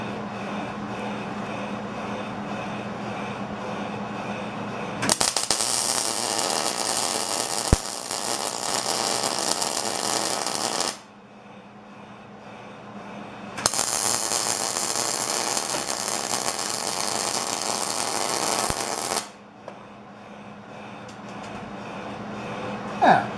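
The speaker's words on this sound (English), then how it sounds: "let's weld up those rosettes, and let's see how we're doing temp-wise" Welding rosettes on metal: two long stretches of steady, loud crackling hiss, each lasting about six seconds, separated by quieter pauses with a low background hum.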